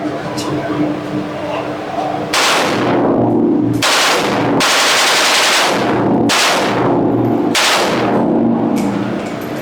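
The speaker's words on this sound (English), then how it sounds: "This is the famous AK-47." An AK-47 assault rifle fires at a shooting range in Poland, loud bursts of rapid shots repeating every second or so, close and harsh, with talk heard between bursts.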